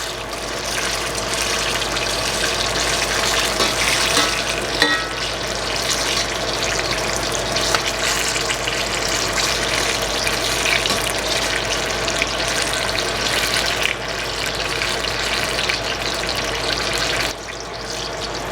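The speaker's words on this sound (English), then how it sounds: "Love the sound of that sizzle." Steady, dense sizzling of vegetarian spring rolls frying in hot oil, continuous and fairly close, with crackling texture throughout and no talking.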